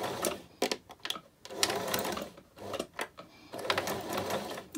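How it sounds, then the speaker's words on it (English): A sewing machine back tacks a seam, stitching a few forwards and backwards to secure the thread. It runs in several close, steady whirring bursts with short pauses between them, and no one speaks. "Then I'm going to do a few stitches forwards and backwards to secure the stitches."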